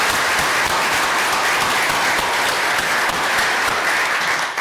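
A conference audience claps steadily for the organisers, a dense, even wash of many hands that holds for several seconds at a moderate level, with no speech over it.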